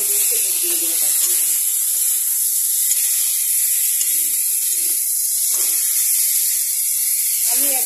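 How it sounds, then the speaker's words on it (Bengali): Crushed onion, garlic, ginger and green chili frying in a small amount of oil, a constant loud sizzling hiss with occasional stirring clinks and faint talk underneath. "সেটা আমি একটু ভালো করে একটু নাড়াচাড়া করে লাল লাল করে ভেজে দেবো"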